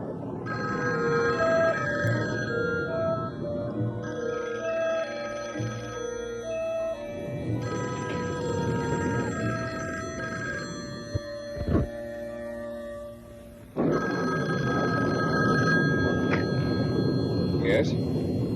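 A telephone bell rings in repeated bursts, loud and close, with short pauses between rings, while voices talk over and between them.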